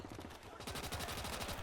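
Rapid full-auto bursts from an AVT-40 rifle in the WWII game Gates of Hell, close-quarters city fighting; a dense stream of cracking shots that picks up to a fast steady rhythm partway through, near and loud.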